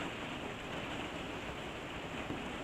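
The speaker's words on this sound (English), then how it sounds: "And my apologies for the noise of the rain." Rain falls outside as a dense, even hiss of broadband noise, steady and unbroken for the few seconds heard, with no voices.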